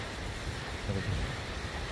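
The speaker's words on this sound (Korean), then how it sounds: "바닷가 소리 들리시죠?" A continuous low roar of surf washing onto a beach at Vung Tau, Vietnam, broad and steady, with some wind rumble mixed in.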